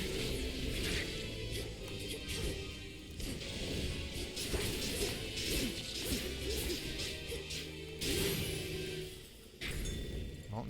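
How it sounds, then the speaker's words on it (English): Freeze-and-shatter attack effects in the action game Hades II crash and smash repeatedly over dense battle noise, with whooshing swings and bright impacts filling the scene. "I'm getting a lot of use out of this shattering, freeze and shattering effect"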